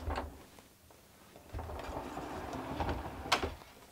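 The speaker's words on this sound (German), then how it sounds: "Zum Lösen diesen Stift umlegen und dann kann ich meine Tür verschließen." Camper van sliding door on a Concorde Centurion being unlocked and closed, faint and close with soft clicks, a rolling slide and a final latching thunk near the end.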